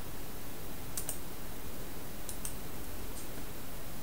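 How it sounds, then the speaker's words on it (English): Crisp computer mouse clicks sound over a steady background hiss in a quiet room: a pair of close clicks near the start, another pair midway and a single fainter click later, with no talking. "And I'm going to click next"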